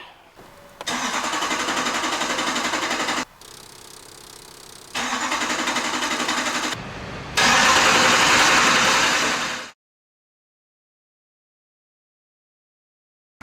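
A Duramax diesel engine, newly swapped in, is primed and cranked in a garage. Loud cranking bursts come in three separate pulls with short gaps between them, and the last one is the strongest before everything cuts to silence.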